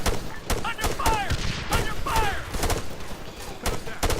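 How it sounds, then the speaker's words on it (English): Video game gunfire during a firefight near a church in a town: repeated sharp shots, some in quick bursts, spaced irregularly across the clip, with ricochet-like whines and a voice speaking in between. "We're taking heavy fire from the direction of the church."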